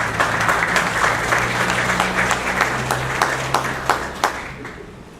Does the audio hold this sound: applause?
yes